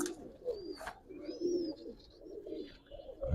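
A dubaj pigeon coos in low, rolling murmurs close up, with a few thin high chirps from other birds and a soft knock at the end.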